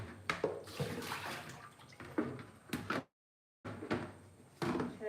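Water runs and splashes while vegetables are washed with salt in a kitchen, a continuous close rushing with clatters, briefly cut off by a moment of silence before resuming.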